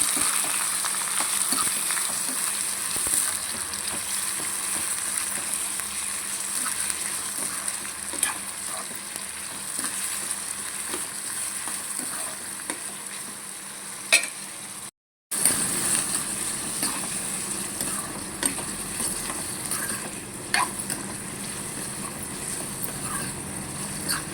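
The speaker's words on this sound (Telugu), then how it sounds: "పొట్లకాయ కూడా దీంట్లో వేసేసుకోవాలి మగ్గనివ్వాలి" Bottle gourd pieces sizzle and fry steadily in a pan for a long stretch, with faint scrapes of stirring now and then and a brief break partway through.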